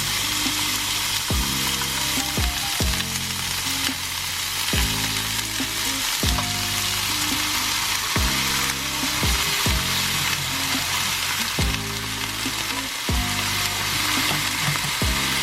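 Eggplant and string beans frying in a pan for a vegetable stew, giving a loud, constant sizzle throughout, broken by periodic stirring scrapes, close and with no talking.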